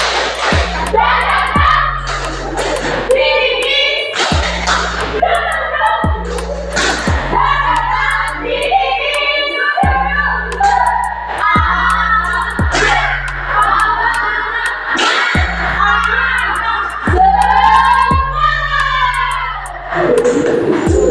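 Classroom of students doing a rhythmic Indonesian spirit clap, sharp patterned claps in repeating bars with children's voices shouting and chanting along over a steady background hum.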